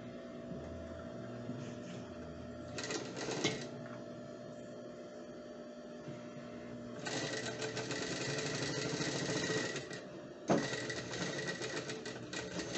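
A sewing machine stitches near the edge of a children's romper in several short bursts of rapid mechanical clatter, with quieter pauses between runs.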